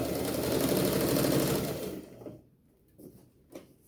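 A sewing machine stitches bias tape in a steady, close mechanical whir for about two seconds, then stops, leaving a few faint clicks and taps.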